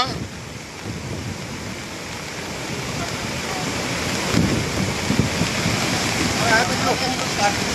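Floodwater overflows at Madhopur headworks on a river in Punjab: a loud, continuous roar of rushing water that swells slightly over time, mixed with wind buffeting the microphone.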